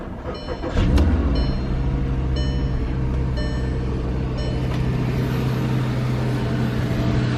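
A car engine cranking and catching after a jump box is connected: a brief starter whir, then the engine fires and settles into a steady, loud idle with a tonal hum, running alone without talk.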